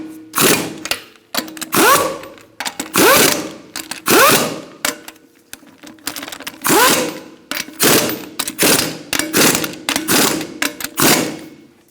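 Impact wrench bursts snugging lug nuts on a 2002-2006 Honda CR-V wheel in a star pattern: a dozen or so short, loud rattling whirs separated by brief pauses, close by with no talk.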